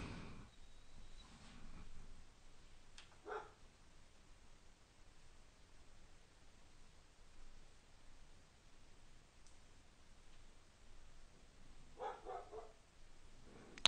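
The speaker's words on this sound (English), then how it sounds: "I apologize if you can still hear my dog barking. He's outside, but still carrying on." A dog barking outdoors during a poker cash game session, heard as a few faint, distant bursts around the start, middle and end over a steady hiss of background noise.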